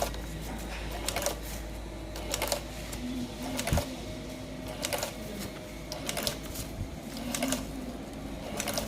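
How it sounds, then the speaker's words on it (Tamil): Batch coding machine on auto mode stamping print onto packaging covers, a repetitive mechanical clack every second or so over a steady motor hum, close and moderately loud. "ஆட்டோ பட்டனை ஆன் பண்ணிவிட்டு அப்படியே வச்சிங்கன்னா எங்கே அடிக்கணுமோ அங்கே அடிச்சுட்டே இருக்கும்"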